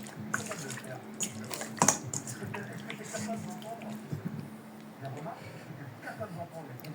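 A kitchen tap runs water as chicken leg quarters are washed, a faint splashing trickle with small drips and clatter, and a voice is heard at times beneath it.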